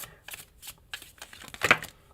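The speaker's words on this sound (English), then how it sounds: "These cards are so difficult to shuffle" A stiff deck of tarot cards is shuffled by hand in short riffling bursts, close and crisp, ending in one louder flurry.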